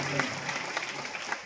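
A church congregation claps in thanks, a broad even patter of many hands sustained at moderate distance, with faint voices mixed in.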